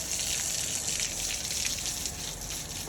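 Water is poured over a cow to cool it in hot weather, a continuous close gushing splash, fairly loud and unbroken, with no voices.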